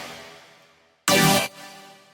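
Layered dubstep synth chords with chorus and delay: a sustained bright chord fades out, then a short, loud burst of dense wide chord stabs hits before a softer ringing tail, with no voice.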